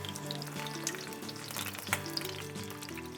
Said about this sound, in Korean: 지글지글 소리만 들어도 왠지 마음이 설레는 우리 민족의 전통 음식인데요